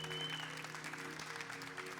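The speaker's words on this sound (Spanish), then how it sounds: "Vamos a darle un aplauso a Cristo." A church congregation applauds during a worship service, a faint, steady wash of many hands clapping over a low sustained hum, continuing evenly throughout.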